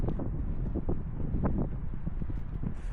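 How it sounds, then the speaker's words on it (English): Wind rumbles and buffets the microphone steadily in Athens, low and blustery, with soft muffled gusts throughout. "It's windy, a little bit windy,"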